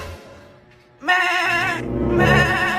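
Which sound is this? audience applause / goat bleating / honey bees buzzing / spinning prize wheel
goat bleating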